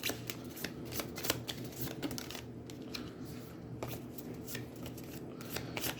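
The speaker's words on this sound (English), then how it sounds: "Take her discard and shuffle." A discard pile of cards is shuffled by hand at a table during a game of Aeons End. Cards riffle in quick, close, papery bursts with a steady rhythm for several seconds.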